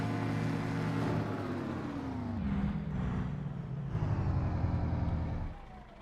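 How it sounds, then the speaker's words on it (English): A Detroit two-stroke diesel engine on harvest equipment runs loud and close, a continuous rough drone whose pitch sags and rises as the load shifts, fading slightly at the end. "you know it's a Detroit 2-stroke"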